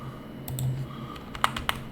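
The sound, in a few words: computer keyboard keys being pressed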